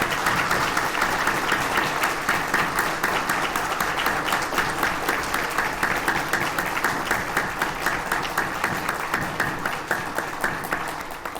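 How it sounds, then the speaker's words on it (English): A large audience at a Florida State University College of Education distinguished alumni awards ceremony applauds the award recipients, with steady, dense clapping that holds throughout and tapers slightly at the end, with no speech over it. "please join me in a round of applause for all of our award recipients tonight"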